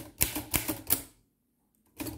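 Keys strike on an Underwood Universal manual typewriter with the shift lock engaged: four crisp, close clacks in quick succession, a short silence, then one more strike.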